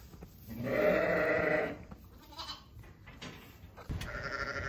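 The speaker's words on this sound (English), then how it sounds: "So now we've got 3 lovely lambs." Young lambs bleating on a farm among triplets and quads, one long loud bleat near the start followed by softer overlapping calls and another bleat near the end.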